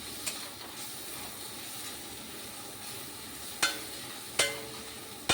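Dried fish (shutki) with spices sizzles steadily in oil in a frying pan, with a few sharp scraping knocks of the stirring utensil against the pan.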